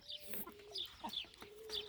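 Village chickens and roosters in a coop make soft, close clucks and short calls in quick succession, faint and with no talk over them.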